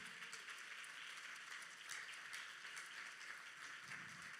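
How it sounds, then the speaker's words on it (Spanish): Congregation applauding during a church service, a steady, dense wash of many hands clapping at moderate distance with no voices over it. "Dele fuerte ese aplauso."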